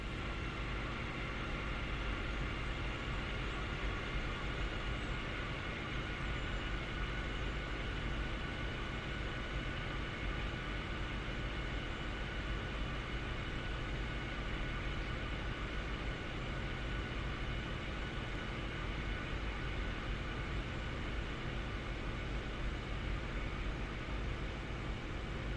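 A rapid transit train in the Train Sim World video game runs at high speed, giving a steady, unbroken rumble and hiss of wheels and motors that holds the same level throughout with no voices.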